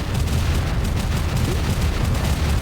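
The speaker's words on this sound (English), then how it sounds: "But will you survive the explosion?" A video game explosion in Turok 3: Shadow of Oblivion rumbles loud and dense, a sustained low boom filling the whole stretch without a break.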